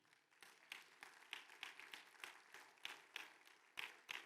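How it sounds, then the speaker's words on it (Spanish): A church congregation claps for themselves, scattered and uneven hand claps that sound faint and distant, rising and falling in irregular bursts. "Dense un aplauso a usted."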